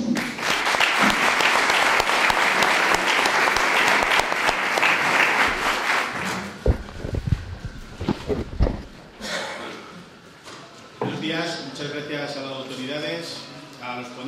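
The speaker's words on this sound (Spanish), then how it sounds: "un aplauso le damos" Audience applause at a company's tenth anniversary event in Valdepeñas, honouring the manager: sustained loud clapping for about six seconds that thins into scattered claps, followed by someone speaking into a microphone.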